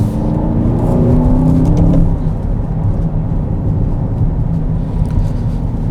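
Aston Martin DBX engine droning from inside the cabin while driving with paddle shifting, a loud steady low rumble that eases slightly after a couple of seconds, with no voices.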